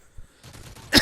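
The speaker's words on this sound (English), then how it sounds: "I'm still coughing here." A person gives a single sharp cough near the end, loud and close, after a stretch of quiet low background noise, with no talk at that moment.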